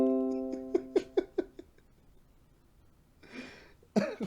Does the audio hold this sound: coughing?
yes